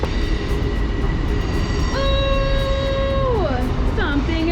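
A Long Island Rail Road train pulls out of Moynihan Train Hall at Penn Station with a sustained electric whine that holds steady, then slides down in pitch. It plays over loud station rumble, with people talking nearby.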